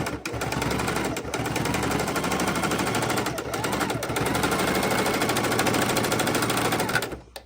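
A sewing machine runs steadily for about seven seconds, stitching a second seam down the edge of a fabric microwave potato bag, with a dense mechanical chatter and only brief dips in speed.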